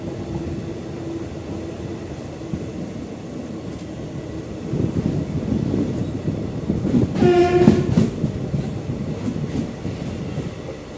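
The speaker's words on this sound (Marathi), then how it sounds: "वानगाव रेल्वे स्टेशनला गाडी लागते आपली." A Virar–Valsad passenger train pulling into Vangaon railway station, with a steady rumble of rolling carriages, rising clatter and a brief horn blast near the middle.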